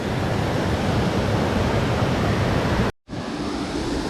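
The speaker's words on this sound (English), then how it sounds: "by far this is the most beautiful waterfall I've seen in the Brecon Beacons" Sgwd Einion Gam waterfall in the Brecon Beacons, a loud, continuous broadband roar of falling water heard close up, briefly cut to silence near the end before the rush resumes.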